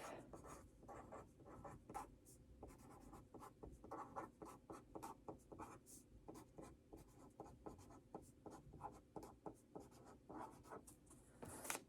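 A pen or pencil writes on paper in quick, steady strokes, scratching rhythmically, close and quiet, with no voices.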